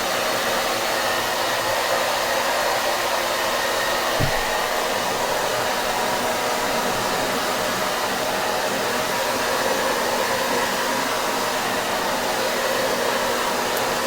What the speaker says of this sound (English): So I'm just doing the hairdryer on it.